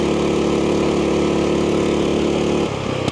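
Racing lawn mower engine at full throttle in a cross-country lawn mower race, a loud, steady, buzzing drone that dips and shifts in tone near the end as the throttle eases.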